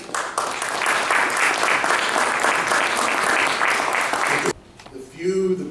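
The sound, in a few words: audience applause at memorial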